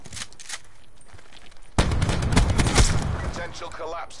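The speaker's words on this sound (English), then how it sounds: "That's a freaking sniper rifle." Sniper rifle fire in a video game booms in heavy, close blasts after a quieter stretch, with rumbling echo trailing and speech faintly underneath.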